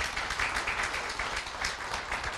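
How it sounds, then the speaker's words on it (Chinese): An audience claps in sustained, dense applause at a corporate leadership training event, a continuous even roar of many hands throughout. "来借你们掌声来给公司一下好不好？"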